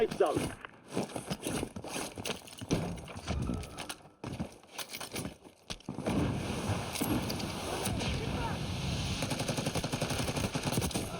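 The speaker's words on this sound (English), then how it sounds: "2 people shooting at me, by the way." Gunfire from two players shooting in the Warzone video game, bursts of rapid shots coming in clusters over steady background noise, with someone talking over the first half.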